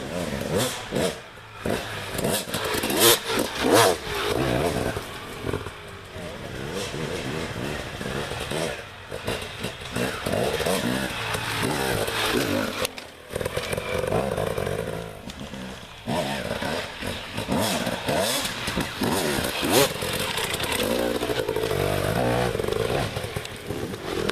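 A dirt bike rides a trail demonstration run, its engine revving and dropping repeatedly as it picks lines over terrain, loud and fairly close throughout with no talk.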